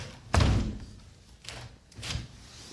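A sliding patio door slams into its frame with one loud close thud, followed by two softer bumps a second or more apart.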